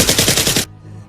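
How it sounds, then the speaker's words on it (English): Rapid automatic gunfire in a Lego Walking Dead animation: a loud burst of about six or seven quick shots in even rhythm, then abrupt silence with no talking. "Our gunshots are bringing more toward us too."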